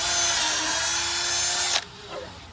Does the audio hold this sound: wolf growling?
no